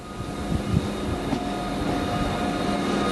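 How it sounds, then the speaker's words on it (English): A regional train rolls along, heard as a steady close rumble and rattle with faint wheel and track noise underneath, continuous throughout and with no voices. "waited for the next train, a slower regional one"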